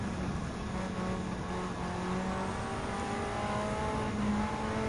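A race car engine in Gran Turismo 7 drones steadily at high revs with a sustained, even tone and no talk over it.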